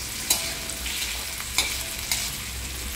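Chopped onion for a tawa methi dish fries gently in a pan, a steady soft sizzle with a few brief stirring scrapes and clicks, close and without talk.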